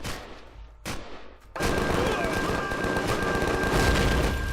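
Enemy gunfire hitting through walls in the survival game Empyrion, a brief quiet pause and then a loud, sustained dense roar of shots and impacts with a steady high tone running beneath.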